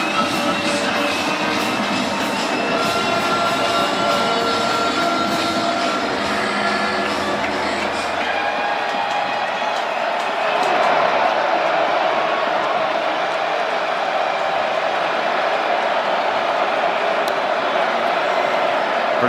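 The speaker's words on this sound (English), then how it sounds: "just take a listen to this crowd here on 3rd down." A college football stadium crowd roars during a third-down play in a Virginia Tech versus Virginia game, a broad sustained wash of noise that shifts in tone partway through, with a broadcast voice talking over it.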